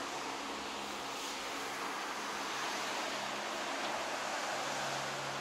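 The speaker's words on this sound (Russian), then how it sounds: "шум моря" Steady broadband wash of Mediterranean sea surf at a Turkish resort, soft and continuous like distant waves rolling in, with no voices.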